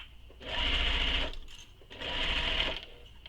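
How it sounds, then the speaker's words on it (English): A sewing machine runs in two steady bursts separated by a short pause, stitching a handbag lining to its exterior with a small seam allowance, close and fairly loud, with no voice over it. "I'm sewing the lining to the exterior"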